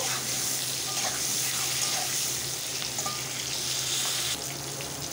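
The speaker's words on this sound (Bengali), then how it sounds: "দিয়ে দেবো পেঁয়াজগুলো একটু ভেজে নেব" Onions fry in a pan with a little turmeric, a soft, continuous sizzle with faint crackles and occasional stirring scrapes for about five seconds.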